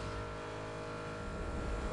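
A car engine in Need for Speed Underground 2, a steady droning hum that holds at a constant loud pitch, with no talking.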